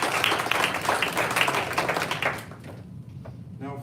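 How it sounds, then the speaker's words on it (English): An audience claps together at a university senior design expo, loud, dense applause that fades out toward the end. "Let's give them all a round of applause."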